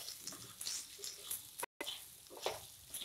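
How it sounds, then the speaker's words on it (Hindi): Ivy gourd (kundru) fries in a pan while being stirred with spices, giving a soft, steady sizzle with scraping stir sounds and a brief dropout partway through. "अब हम इसमें अपना कुंदरू डाल देंगे और मसाले के साथ अच्छे से मिक्स कर लेंगे।"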